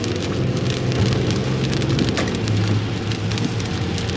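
Steady rain falls on the outside of a car while driving, a dense close hiss of drops drumming across the roof and glass with a low road rumble beneath, continuous and unbroken throughout.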